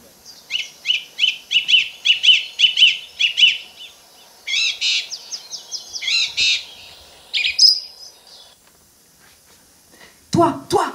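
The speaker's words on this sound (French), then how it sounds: "La grive musicienne." A song thrush sings nearby in varied, crisp phrases, each repeated several times before switching, with short pauses between bursts.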